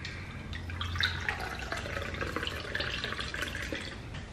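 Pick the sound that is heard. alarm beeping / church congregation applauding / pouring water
pouring water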